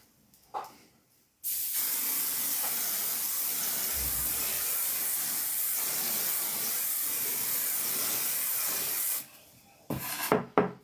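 Hairspray hisses from a can in one long continuous burst of about eight seconds, close and steady, framed by brief handling noises before and after.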